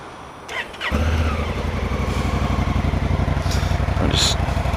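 A Honda CRF1000L Africa Twin motorcycle engine cranks and fires up after a second of quiet, then settles into a steady, close, throbbing idle as it warms up, with a couple of faint background clinks.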